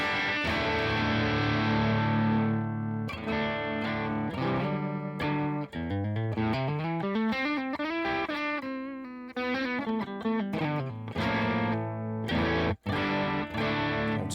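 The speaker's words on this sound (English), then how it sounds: "we are using a Dumble preset here on my Line 6 Pod Go" An electric guitar runs through a Dumble amp preset on a Line 6 Pod Go, with sustained distorted chords and then a melodic run of single notes, loud and close with reverb and brief pauses.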